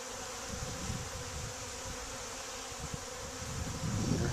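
Honey bees hum around an open hive during an inspection. The bees are calm and docile. A dense, steady buzz runs the whole time and swells slightly louder near the end. No one speaks.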